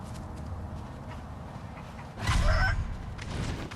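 A chicken in the Sekiro: Shadows Die Twice video game clucks and squawks in one loud burst partway through, over steady low in-game background rumble.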